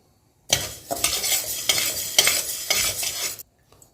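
Urad dal dry-roasting in a pan on medium heat, stirred continuously so the grains rattle and scrape in a loud, close rush for about three seconds before stopping abruptly.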